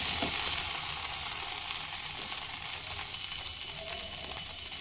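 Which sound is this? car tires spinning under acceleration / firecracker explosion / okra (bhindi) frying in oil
okra (bhindi) frying in oil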